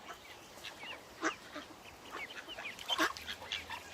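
Ducks on a river quack and honk while being fed outdoors, a few distinct calls at moderate distance over faint ambient background, with no talking.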